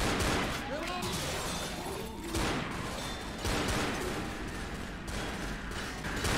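Pistol shots in Left 4 Dead, several sharp cracks at irregular intervals over a loud, dense game soundscape with speech mixed in.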